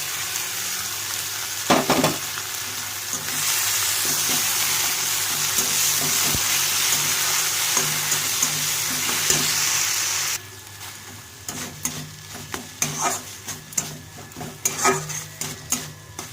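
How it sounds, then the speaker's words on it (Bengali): Poppy seed paste with pointed gourd peels sizzles loudly in a pan while a utensil stirs and scrapes it in irregular clicks. The sizzle drops sharply partway through, then the scraping carries on more quietly. "একটু সুন্দরভাবে নাড়াতে হবে যাতে করে তলাটা লেগে না যায়"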